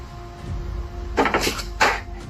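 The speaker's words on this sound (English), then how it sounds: "a loud knock comes from inside the closet" Two sharp knocks on wood come from inside a closet, close and distinct, spaced about half a second apart over a faint room hum with no voices.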